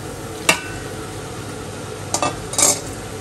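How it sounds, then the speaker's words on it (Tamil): Pasta being stirred into a spicy masala in a pan: a few brief scraping and clinking strokes of a utensil against the pan over a steady low background. "இப்போ நம்ம வந்து இதோட பாஸ்தாவை சேர்த்துக்கலாம்"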